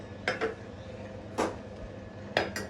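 A few light metallic clanks and scrapes of a pot being set down and adjusted, close and fairly quiet.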